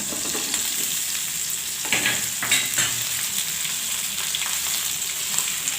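Steamed gram-flour muthiya dumplings frying in a spiced oil tempering with sesame seeds: a constant close sizzle with bursts of louder crackle and stirring scrapes around the middle, no talking.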